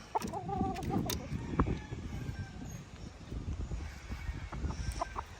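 Chickens, stags and chicks clucking outdoors on a farm, a few near clucks and calls early, then softer scattered clucking over background noise.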